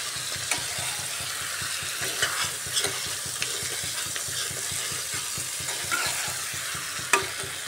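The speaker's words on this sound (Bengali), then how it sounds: "এইভাবে বারবার ঢাকা দিয়ে কষিয়ে নিচ্ছি, এতে করে একটু মজেও যাবে চিকেনটা।" Chicken being stir-fried with spices in a covered pan, with onions and potatoes: a continuous close sizzle with rapid, rhythmic scraping strokes of a spoon and a sharper clank near the end, no voices.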